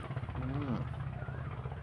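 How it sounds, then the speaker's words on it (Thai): A loud, low engine rumble with a rough exhaust drone from a vehicle hauling cassava runs throughout, with a voice speaking over it nearby. "เสียงท่อไอเสีย เนาะ"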